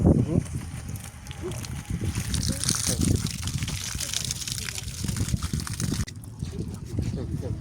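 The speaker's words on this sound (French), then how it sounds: "c'est la première utilisation de la cabine de douche" Water runs steadily in a shower cabin, a continuous rushing gush with splashing texture, briefly cut off near the end before resuming, with a voice talking over it.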